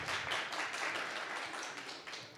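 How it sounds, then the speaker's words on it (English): An audience at a blockchain and cleantech startup event gives a short burst of steady applause, fairly faint and distant, with no voices over it. "Your big applause to Vytautas."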